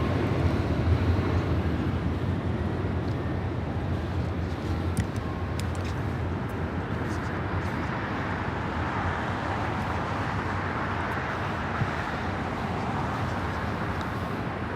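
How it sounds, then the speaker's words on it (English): United Airlines Boeing 737-800 jet taking off at LAX, a broad, steady roar heard from a distance that swells slightly and stays even for the whole stretch. "This is United Airlines 319 taking off to Puerto Vallarta on a"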